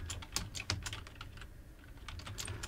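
Rapid typing on a computer keyboard, a steady run of close, crisp key clicks with a few louder strokes, heard alone without speech.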